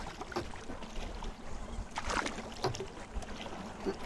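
Canoe paddling on Marten and Bruce Lakes, with soft water swishes and drips from paddle strokes at a steady, unhurried pace, close by over light wind and faint background noise.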